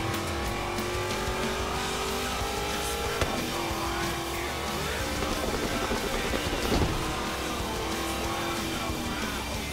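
The Hot Wheels Twin Mill race car in Forza Horizon 3 roars continuously with a rising, shifting engine whine, tire noise and occasional impacts, loud and sustained throughout.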